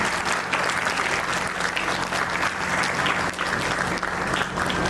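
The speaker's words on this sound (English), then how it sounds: "Clap for both of them also." An audience at a school annual function applauds the choreographers, a steady, full wash of clapping from a large crowd that holds throughout.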